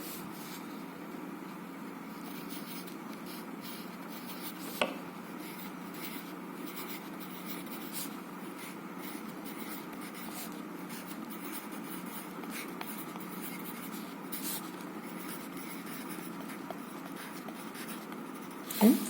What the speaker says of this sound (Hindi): तो चलिए हम लिखते हैं इसको